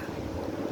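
Wind buffets a phone microphone outdoors on a windy day, a dense, steady roar of rumbling noise throughout a brief moment.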